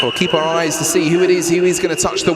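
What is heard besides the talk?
No distinct noise like a dog, phone or traffic.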